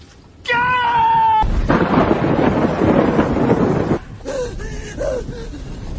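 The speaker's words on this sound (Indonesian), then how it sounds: "Tepat saat turun hujan" A thunderstorm in a horror film scene brings a loud, sustained roar of heavy rain and rumbling thunder that lasts several seconds. Tonal wailing or voice-like sounds come before and after it.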